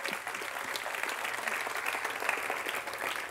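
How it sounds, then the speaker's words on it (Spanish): A Spanish-speaking church congregation applauds during a service, a dense, even roar of clapping heard alone at moderate level. "Démosle un aplauso al Rey en esta hora."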